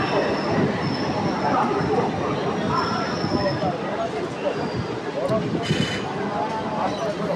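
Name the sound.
Howrah–Tarakeswar EMU local train entering Liluah station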